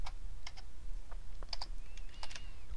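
Quiet, scattered keystrokes on a computer keyboard while entering spreadsheet formulas, a few sparse clicks over a low background hum.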